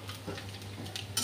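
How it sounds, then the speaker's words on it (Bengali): Peanuts sizzle in hot oil with a quick stirring scrape, a brief close crackle that flares sharply at the very end. "বাদামটা আগে ভেজে নিচ্ছি।"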